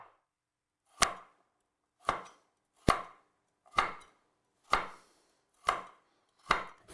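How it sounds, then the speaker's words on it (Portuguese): Knife chopping carrot on a cutting board, seven evenly spaced sharp thuds about a second apart, close and distinct against a quiet background. "agora eu corto a cenoura sempre na transversal para ficar uns pedacinhos meio irregulares"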